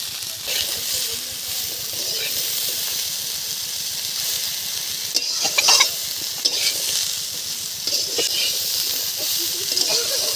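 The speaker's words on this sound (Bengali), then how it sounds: "হালকা করে একটু ভেজে নেবো যাতে কাঁথা গন্ধটা চলে যায়" Malabar spinach stalks and prawns fry with salt, turmeric and chilli powder in a pan, giving a loud, constant sizzle and hiss with occasional scraping stirs close by, with no talk.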